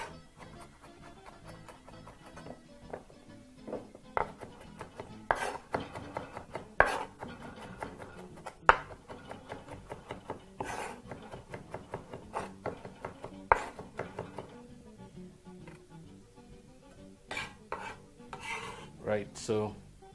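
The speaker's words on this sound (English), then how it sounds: "bang those on your board with your knife, back of your knife rather, and proceed to chop this very," A knife chops garlic cloves on a board after the cloves are banged with the back of the blade; sharp irregular knocks and scraping taps come close and loud, with no voices.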